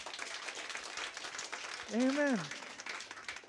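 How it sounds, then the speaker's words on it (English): Church congregation clapping an applause offering during a sermon, a steady, fairly faint patter of many hands throughout, with one voice briefly calling out midway. "let's give the Lord a clap offering for that"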